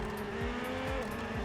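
A car driven in a racing video game, its engine holding a steady tone while tires squeal in short repeated chirps, loud and close throughout.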